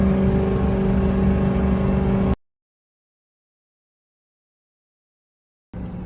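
A 6.0 Powerstroke diesel truck engine towing up a steady hill: a steady loud drone with a cut to silence, then the engine returns, consistent with a gear change.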